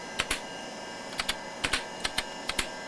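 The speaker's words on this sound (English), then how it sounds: "This keyboard is very nice to type on." Keys clack on the keyboard of a 1989 Fora LP-286L laptop in short bursts of two or three crisp, close strokes separated by brief pauses, alone without voices.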